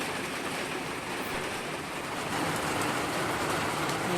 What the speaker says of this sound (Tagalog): Lakas naman balik ang ulan.